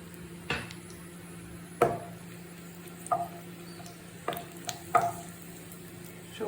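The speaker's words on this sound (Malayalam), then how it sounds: "എണ്ണ ഒന്ന് ചൂടാവുമ്പോൾ നമുക്ക് വറ്റൽ മുളക് ഇട്ട് കൊടുക്കാം" Dried red chillies fry in hot oil with a soft, steady sizzle, broken by several distinct clicks and taps of a utensil against the pan at uneven intervals.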